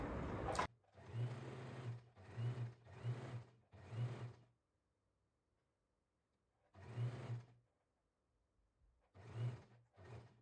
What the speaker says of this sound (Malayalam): അപ്പോൾ നമ്മൾ ആദ്യം കോളറാണ് സ്റ്റിച്ച് ചെയ്യുന്നത്.